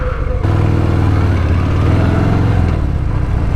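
A 2021 Harley-Davidson Fat Bob motorcycle engine pulls away with a loud, close, steady low rumble that holds for several seconds with no talk.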